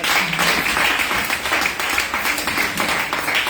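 A church congregation applauds together in steady, dense clapping that holds at an even level throughout, with a murmur of voices mixed into the crowd.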